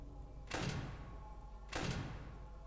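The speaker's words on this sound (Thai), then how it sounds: "บอนนี่มาปิดประตูฮะ" Two game door closings in a Roblox FNAF horror game, each a broad, muffled thud about a second apart, moderately loud over a steady low ambient hum.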